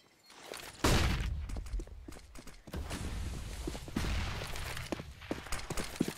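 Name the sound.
auto sniper gunfire in video game CS map Inferno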